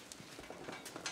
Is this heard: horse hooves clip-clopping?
yes